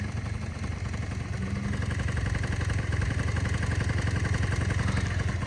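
A cold Honda Dio FIT AF-27 two-stroke scooter engine idles steadily nearby with a fast, rattly putter and low rumble, running evenly without revving.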